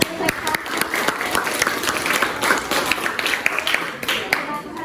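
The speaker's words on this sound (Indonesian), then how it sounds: "Beri aplaus untuk" Classroom applause after a student's class presentation: a burst of many hands clapping steadily for several seconds, close and lively, with voices chattering underneath.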